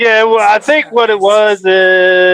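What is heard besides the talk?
No everyday noise stands out behind the speech.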